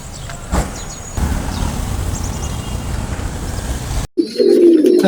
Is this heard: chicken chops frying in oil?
no